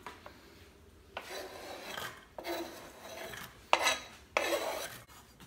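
Diced onion tumbles into a cooking pot in a few separate scrapes and rustling pours, each lasting under a second, close by with quiet pauses between and no talking.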